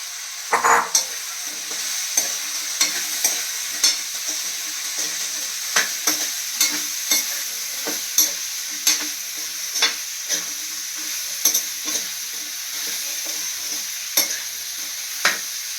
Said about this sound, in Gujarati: હવે આપણે આમાં ફ્લાવર નાખશું